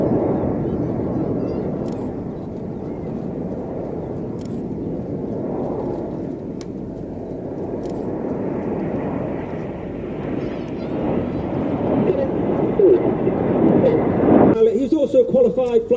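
Red Arrows display jets pass overhead during an air show, a broad roaring rumble swelling steadily louder over many seconds as a commentator talks throughout.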